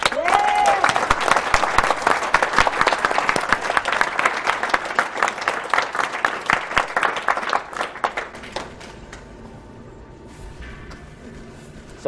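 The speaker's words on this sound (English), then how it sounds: "give everyone who is battling cancer right now an encouraging round of applause" A crowd at a speedrunning charity marathon applauding loudly with dense, steady clapping for about eight seconds, then fading out into quiet room tone.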